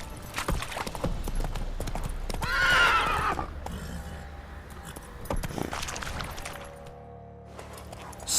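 Roach, Geralt's horse in The Witcher 3, gallops with rapid, close clip-clop hoofbeats and jingling tack, giving a loud neigh partway through before the hooves slow down.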